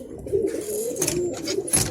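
Pigeons coo softly in short, repeated calls close by, with a faint rustle in the background.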